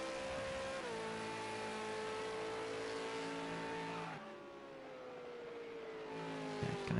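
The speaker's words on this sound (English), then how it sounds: "Goddamn beautiful engine sound." Race car engine at Sonoma in a racing video game, a loud steady high-pitched whine that holds, steps down as the car shifts, dips briefly, then climbs again.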